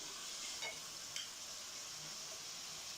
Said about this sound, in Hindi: तो अब मैं इसके अंदर यहाँ पे मसाला ऐड कर दूँगी।